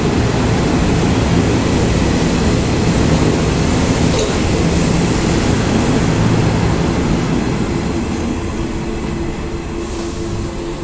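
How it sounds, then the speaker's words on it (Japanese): A local commuter train pulls out of a station platform beside the listener, a loud, steady rumble of wheels and motors with rail clatter and brief squeals throughout. "横に止まってた普通電車が発車していきましたね。"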